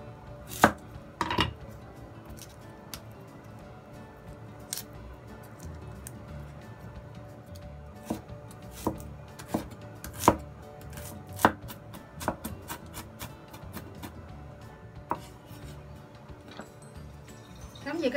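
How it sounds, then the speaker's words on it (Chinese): Scallions chopped with a knife on a board, irregular close taps, some sharp and loud, others light and quick, spread over a quiet kitchen background with a faint hum. "切啲葱蓉啦"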